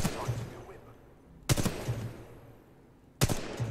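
Weapon fire from the Titanfall 2 training range: two sharp, loud broadband bursts about two seconds apart, each a short shot with a quick decay, over quiet game ambience.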